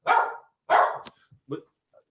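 A dog barks in two loud, close barks, then gives a few softer yips and whimpers. It sounds like a home during an online prayer service.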